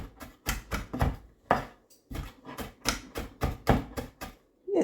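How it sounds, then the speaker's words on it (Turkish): Rapid, repeated knife chops strike a cutting board in an uneven rhythm, close and crisp, with no voices. "İncecik olana kadar bu şekilde doğrayın."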